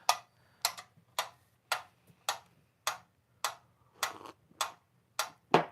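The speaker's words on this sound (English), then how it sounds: "prefer the clickiness of an actual metronome, and they're cool" A wind-up mechanical metronome ticks steadily and close up, about ten crisp, evenly spaced clicks at a moderate tempo, with nothing else heard.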